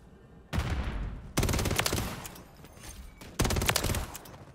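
Three long bursts of rapid automatic fire from a WSP Swarm in Modern Warfare 3, loud and close, separated by short pauses.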